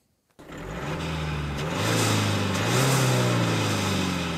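A Hyundai i30 with a 1.6 litre diesel engine starts up and idles steadily, a close, continuous diesel drone with a slight clattering knock that grows a little louder midway, heard alone without talk.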